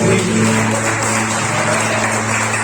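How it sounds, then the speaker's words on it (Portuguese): A church congregation claps steadily and continuously during worship, with a constant background of music or hum beneath the applause. "Você pode celebrar Deus com suas palmas"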